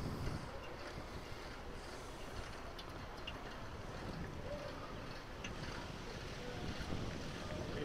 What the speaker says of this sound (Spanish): Una tarde con mucho aire,